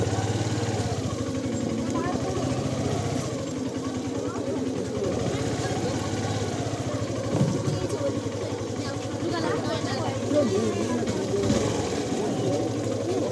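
A motorcycle engine drones steadily on a ride, a constant low rumble from start to finish with small bumps in level. People talk underneath the engine.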